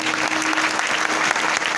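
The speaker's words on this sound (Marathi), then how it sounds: "टाळ्या वाजवा." An audience at a comedy kirtan bursts into brisk, dense, continuous applause, with many hands clapping together close by for a couple of seconds.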